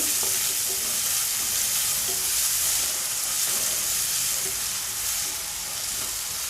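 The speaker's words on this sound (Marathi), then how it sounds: "त्यामध्ये आपल्याला कढीपत्ता आणि दोन कांदे घेतले कांदे छान असे नरम होऊ द्यायचे" Onions with garlic and curry leaves fry in hot oil for a Malvani prawn and potato curry, giving a dense, continuous, loud sizzle close up with occasional faint stirring scrapes.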